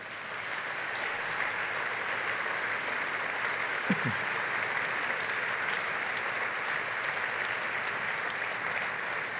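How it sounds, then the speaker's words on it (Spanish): Sustained, dense audience applause at a foundation's fiftieth-anniversary event, a steady wash of clapping from a large crowd that holds evenly throughout, fairly distant in a hall. "Un aplauso para ellos."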